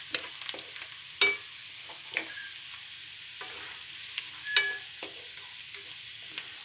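Garlic and onion sautéing in a pan for spaghetti make a light sizzle, broken by repeated scraping and clacking stirs with a spatula at an uneven pace, close and fairly quiet, no voices.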